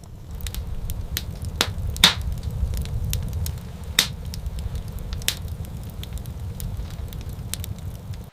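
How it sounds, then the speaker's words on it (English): Fire crackling in a hearth inside a small tree-trunk dwelling in a forest, a low steady rumble with scattered sharp snaps and pops, a few louder cracks standing out, close and alone without talk. "A spark ignites, life within the hearth. Gentle crackles fill the air, a melody of warmth and comfort."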